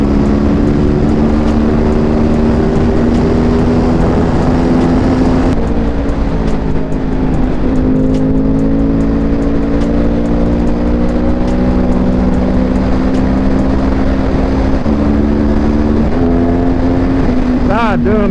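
A Yamaha R1 sportbike ridden on the road, its engine droning loud and steady with harmonic tones that rise and dip through shifts, wind roar throughout, and a sharp rev near the end.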